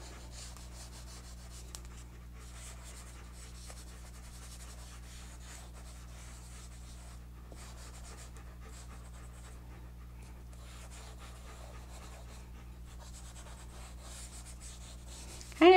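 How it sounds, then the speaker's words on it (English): An eraser scrubs across drawing paper in steady, faint rubbing strokes that run almost continuously with no voices, ending in a brief louder knock. "so I take the eraser and I just start"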